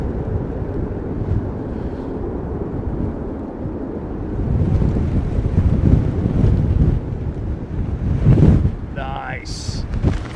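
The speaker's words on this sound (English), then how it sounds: "Wind has just picked up again." Strong storm wind at Heathrow Airport during Storm Darra, a loud roaring rush and heavy microphone buffeting that surges stronger halfway through, with a voice briefly speaking near the end.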